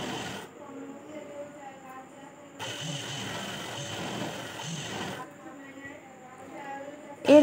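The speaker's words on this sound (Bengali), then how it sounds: "নাইটি আমি নিচেটা ভাঁজ করে সেলাই করে নেবো" A sewing machine stitches the folded bottom hem of an A-line nighty. A mechanical whirring runs in a louder burst in the middle, set against quieter running before and after, with a voice faintly present.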